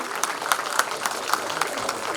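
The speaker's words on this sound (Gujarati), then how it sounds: "આપણે તાળીઓથી વધાવીએ" An audience at a Vankar community get-together in Gandhinagar claps together in a lively round of applause. The clapping is close and fairly loud, with distinct hand-claps keeping a steady rhythm throughout.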